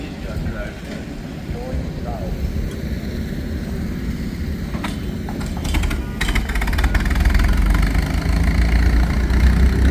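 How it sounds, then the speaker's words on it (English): Silver King tractor with a 4-cylinder Hercules engine idling at an antique crawler and tractor show, a steady low rumbling chug under crowd noise and talk, growing somewhat louder toward the end. "4-cylinder Hercules engine."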